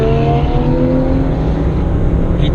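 A Porsche Cayman GTS and another car accelerate hard side by side in a drag race, a loud, close, sustained engine roar rising in pitch as they pull away.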